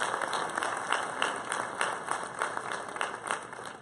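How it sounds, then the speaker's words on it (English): Audience at a 2018 varsity athletic ceremony in Claysburg-Kimmel gives a steady round of applause, a dense, even patter of many hands clapping in a hall, sustained for several seconds with no voice over it. "Let's have another round of applause for Corinne Lyon"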